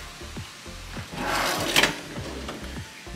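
Kitchen drawer holding utensils such as a spatula in a one-bedroom resort condo in Kauai, sliding open with a soft wooden rub and a brief rattle of contents, close and fairly quiet, with light clicks around it.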